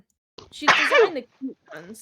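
A person sneezes once, close and loud, during a casual podcast conversation about gaming, with brief talk before and after the sneeze.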